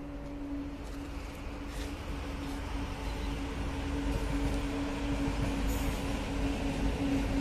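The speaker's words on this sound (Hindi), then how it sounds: "फिर आ गई ट्रेन देखो" A train rolls past at a moderate distance in a steady, rumbling wash with a sustained tonal whine and a few faint clanks.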